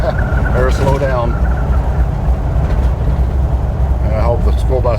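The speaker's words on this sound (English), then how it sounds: "Yep, school bus is passing by, so we're good to go there" A school bus passes near a 1977 Chevy Monte Carlo, its steady low engine rumble filling the scene throughout while people talk over it.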